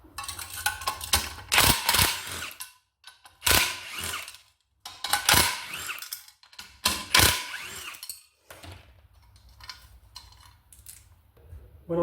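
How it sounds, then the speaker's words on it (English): A rattle gun spins off 17mm nuts holding the blades on a Honda HRU196 lawn mower, loud bursts of rapid mechanical hammering separated by short pauses, close and without talk. "Blades are held on with a 17mm nut and bolt, so we're going to rattle off the 17mm"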